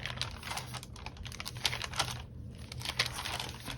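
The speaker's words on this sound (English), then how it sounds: "the sound of those pages" Hobonichi A5 notebook pages riffling and flipping in quick succession, a soft crisp crinkling rustle that continues steadily, close by.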